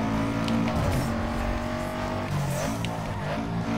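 A tuned Subaru Impreza WRX STi with a boxer engine driving hard on a race track: a loud, continuous engine roar heard from inside, with rising and falling revs through quick gear changes.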